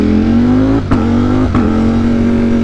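A motorcycle engine revs with a steady tone, broken by two sharp exhaust pops about 0.7 seconds apart, loud and close.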